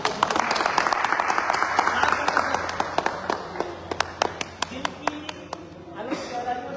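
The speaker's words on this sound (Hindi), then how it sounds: "मैं चाहूँगा एक जोरदार तालियां हो जाए" A small crowd claps together, a dense burst of applause that thins out to scattered individual claps and fades, with voices murmuring underneath.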